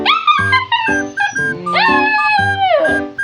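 A dog whimpers and yips repeatedly in high, wavering cries, close by, with short pauses between the whiny bursts.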